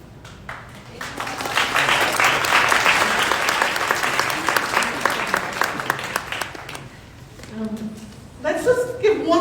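An audience claps after a speech, a dense sustained round of applause that swells quickly, holds, then thins out, with a voice speaking over the final seconds.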